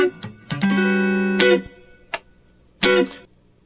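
An electric guitar plays a chord from a song, then picks high strings, with clean sustained notes in short separate bursts and brief plucks between them, close and clear.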